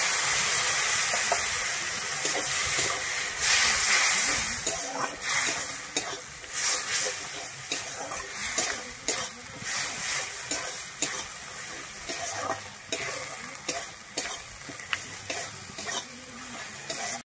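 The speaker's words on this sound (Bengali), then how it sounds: "আমার মশলাটা কিন্তু খুব ভালোভাবে ভাজা হয়ে গেছে। এরপরে আমি কিন্তু বাটি ধুয়ে একটু জল দিয়ে দিচ্ছি।" Water goes into well-fried spices in a pan for a yard-long bean and potato dish. A loud hissing sizzle at first gives way to steady rhythmic stirring scrapes over a fading bubbling fry. No speech is heard.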